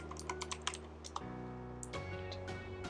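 Keys tapped on a computer keyboard while writing Flutter code, a quick run of light, close clicks over a steady background hum.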